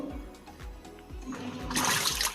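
A fully automatic washing machine, run with only a little water during a test, thumps in regular low pulses before water rushes in more loudly toward the end.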